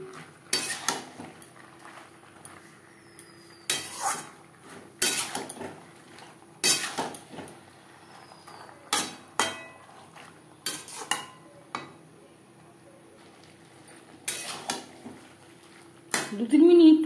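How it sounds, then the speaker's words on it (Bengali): A utensil scrapes and clinks against a pan as potatoes are stirred in spice paste for a Bhola bhetki fish curry, in sharp irregular bursts separated by quiet gaps and ending in a louder clatter. "2-3 মিনিট মশলার সাথে আলু নাড়াচাড়া করে নেওয়ার পর"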